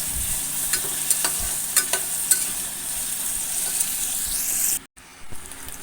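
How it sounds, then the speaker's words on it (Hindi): Chopped onion sizzles and fries in hot oil inside a pressure cooker, a steady close crackle broken by a few sharp stirring clinks, then a brief cut to near silence. "प्रेशर कुकर में प्याज डाल दिया।"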